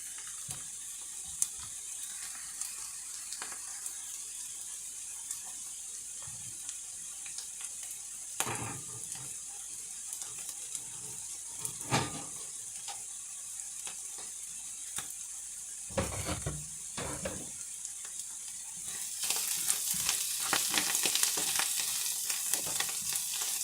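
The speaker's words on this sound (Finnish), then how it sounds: "Se saa siinä alkaa kiehumaan ja lisätään siihen kohta sitten pasta." Liquid in a pan comes to a boil for a creamy chanterelle pappardelle, giving a steady close bubbling and sizzling hiss with occasional stirring clinks, growing louder toward the end; no one talks.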